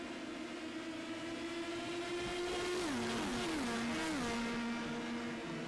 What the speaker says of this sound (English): Just listen to those engines as they go by on the run down to turn 11